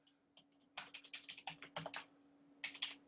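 Quick, soft keystrokes on a computer keyboard sound close by, with a steady burst of typing in the middle and a few more taps at the end over a faint electrical hum.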